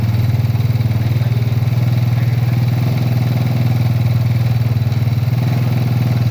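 A motorcycle engine runs close up during carburetor tuning in a school workshop, a loud steady idle with clattering pulses and slight swells of throttle, no voices over it.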